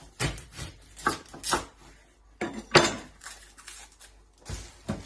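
A knife chops through an onion on a cutting board, giving a series of sharp, close knocks in an irregular rhythm, each a short woody tap with brief scraping between.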